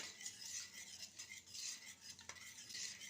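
A spoon stirs a thick home-remedy mixture for winter cold and cough, sweetened with honey or basil juice, giving soft repeated scraping swirls with one brief clink, quiet and close, no talking.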